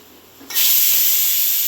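A pressure cooker on the stove cooking rice vents a sudden, loud, steady hiss of steam that bursts in after a quiet start and holds at full strength.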